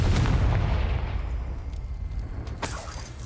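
A Confringo fire spell from Hogwarts Legacy detonates with a heavy low boom that rolls off into a decaying rumble, followed later by a sharper crack, loud and close.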